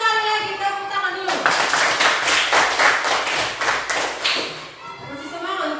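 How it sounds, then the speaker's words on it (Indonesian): A class of students claps together in a classroom, a burst of quick, fairly loud clapping that starts after a teacher's voice and fades out as talk resumes. "Sekali lagi tepuk tangan dulu"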